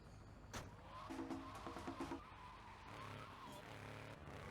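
A car engine in GTA Vice City, revving with popping exhaust bursts and short tire or skid noises, heard close and fairly quiet with no talk over it.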